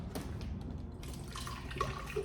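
Water trickling and splashing into a protein shake container, faint, with a few brief pours and drips over a couple of seconds.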